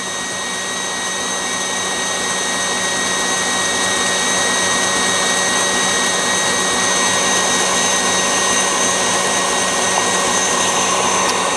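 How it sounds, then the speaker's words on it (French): Electric hand mixer whipping egg whites for a strawberry-raspberry dacquoise, speeding up gradually; a loud, continuous whirring drone that holds steady and swells slightly throughout. "j'accélère progressivement aussi mon batteur, de façon à ce que les blancs montent bien"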